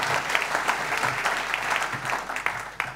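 Studio audience at a literary late-night show applauding steadily, a dense continuous patter of many hands clapping at moderate volume with no talk over it.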